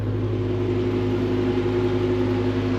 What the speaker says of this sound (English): Air conditioner's running.